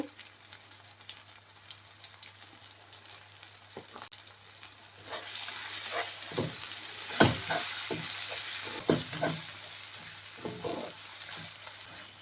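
Spices sizzle and crackle in a hot pan with turmeric powder, quiet at first and then louder, with stirring scrapes and pops.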